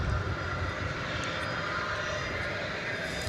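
A British Airways airliner at DFW Airport produces a continuous, moderately faint jet engine roar, steady and distant-sounding with no voices.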